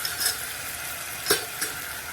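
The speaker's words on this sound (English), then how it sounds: "now I'm going to keep on stirring it" A spoon stirs a flour mixture with tomato puree in a hot pan on the stove for Kashmiri dum aloo, a steady sizzle broken by a few short scraping strokes, with no talking.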